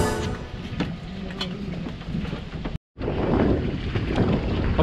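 Strong wind roars and buffets the microphone aboard a raft, a constant rushing noise over open water, cut by a brief moment of silence midway.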